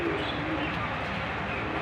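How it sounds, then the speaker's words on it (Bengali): Pigeons pecking at bare soil on a hot afternoon give steady low cooing, blended into a dense wash of outdoor background noise. "আপনারা দেখতে পাচ্ছেন এখন কবুতর মাটি খাচ্ছে"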